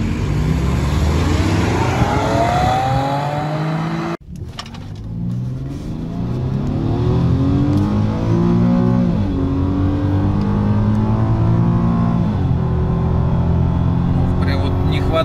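An Audi A4 with a 2-litre turbodiesel and DSG gearbox racing an Infiniti G25 from a standstill, engines roaring loudly and climbing through rising gear sweeps with shift breaks, heard from inside a car with people talking over it.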